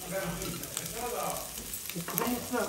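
Ginger fried and stirred in a pan in a village kitchen, a steady close sizzle with repeated scraping stirs and faint voices talking underneath throughout.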